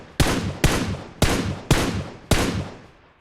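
Five loud, sharp gunshots ring out at roughly even intervals in the PUBG Mobile battle game, each with a short decaying tail and no talking.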